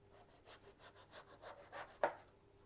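A knife slices through a vegetable for a salad, giving soft repeated rubbing strokes followed by one sharper, louder cut near the end, close and quiet, with no talking.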